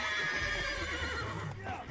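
A horse neighs and whinnies in The Witcher 3 video game, a loud, drawn-out call over steady game background, with faint hoof clip-clop mixed in.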